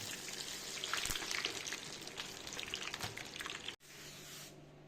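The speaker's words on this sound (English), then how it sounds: "So I have a pot getting hot with enough oil for a proper deep fry" Breaded fish fingers deep frying in a pot of hot oil at about 350 degrees, making a dense, crackling bubbling sizzle with a few sharper pops, then a brief cut to a softer, steadier fizz.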